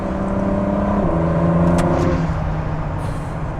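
A 2017 Ford GT accelerating briefly on a Norwegian road, a loud close engine roar building steadily over a few seconds with no talk.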